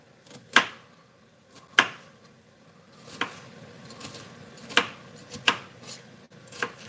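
Knife chopping leeks into cubes on a board in a home kitchen, six sharp, separate chops at uneven intervals with quiet pauses between them, close and clear.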